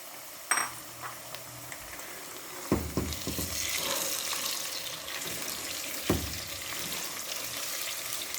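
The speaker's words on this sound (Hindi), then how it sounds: "और हमने इसको प्याज के साथ ही फ्राई करना है।" Boneless chicken cubes frying with golden onions in a karahi, a rushing sizzle that swells after sharp drops into the hot oil, with a few clanks and stirs, close by and with no talking.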